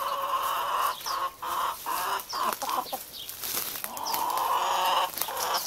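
A hen clucks repeatedly in a farm setting, with bursts of clucking and some louder calls close by over steady background noise, no talk.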